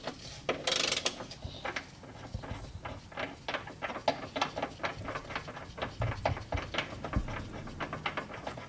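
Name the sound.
ratchet turning 19mm bolt on Genesis coupe subframe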